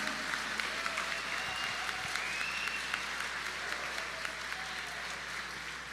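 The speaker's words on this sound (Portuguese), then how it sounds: "Pode dar uma salva de palmas para ele, gente" Congregation applauding inside a church during a Sunday Mass homily, a steady wash of many hands clapping that holds evenly for the whole stretch at moderate level.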